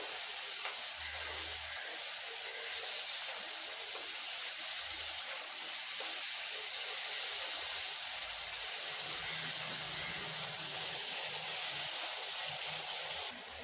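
Vegetables sauté in a hot pan in a Tamil kitchen, giving a soft, continuous sizzling hiss with no speech.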